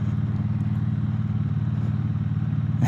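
A Triumph Bonneville T100 motorcycle climbs a very steep valley road, its engine a steady close, loud low throb with a pulsing rhythm throughout.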